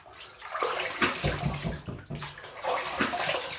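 Running water splashes from a tap as a face is rinsed after a close shave, a short, close burst of irregular splashing and gurgling.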